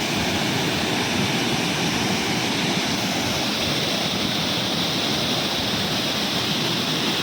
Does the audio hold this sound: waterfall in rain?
yes